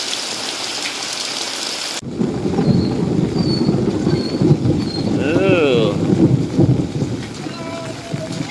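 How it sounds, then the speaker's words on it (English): A low rumble of thunder rolls through steady rainfall in the Philippine rainy season, with a sharp shift at the start and faint birdlike chirps and other background sounds mixed in. "Little thunder there."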